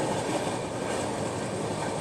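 Indian Railways WAG9 electric locomotive passing close alongside a moving train, a steady loud rumble with rail clatter throughout and no pauses.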